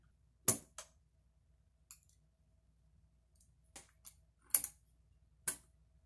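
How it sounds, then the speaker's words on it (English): Keycaps are pulled one by one off a Varmilo VA87M mechanical keyboard with Cherry MX Black switches, giving about six sharp, separate plastic clicks and snaps spaced by quiet pauses, close up. "let's pull off a couple of these keys and I'll show you what we're dealing with here"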